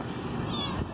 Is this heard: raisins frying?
no